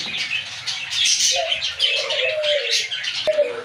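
Several pigeons cooing in a cage at a pigeon farm, low rolling coos layered with busy chirps and rustling from the birds, close and fairly loud.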